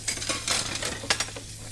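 Dishes are washed in the horror game Emily Wants to Play Too, with a busy clatter of sloshing and scrubbing. Brief sharp clinks of crockery rise over a low steady hum, and no voices are heard.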